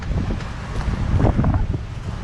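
Strong wind roars and buffets steadily from a sailboat, with gusts battering the microphone in a continuous, loud rumble out on open water.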